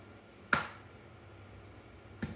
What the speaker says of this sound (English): I usually make a mess when I crack an egg